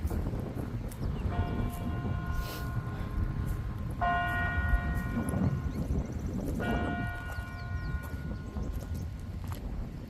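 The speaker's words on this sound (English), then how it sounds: "Oh, there's the bells." Three long tolls of a large bell ring out over steady wind noise at a bicycle pump track in Anniston, each sustained and slowly fading, spaced a few seconds apart.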